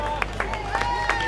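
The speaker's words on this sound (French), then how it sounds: "Tonnerre d'applaudissements pour celle qui termine deuxième du général" An audience at a Troyes triathlon prize ceremony claps for the long-distance runner-up, scattered claps and crowd murmur over a steady hum with a sustained tone running through.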